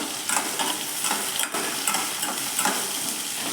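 Onion, garlic and dried chillies sautéing in a pan make a close, steady sizzle, with a rhythmic scrape of stirring about every half second and no voices.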